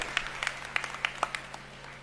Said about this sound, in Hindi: तालियां बजा करके डॉक्टर साहब का सम्मान करें, स्वागत करें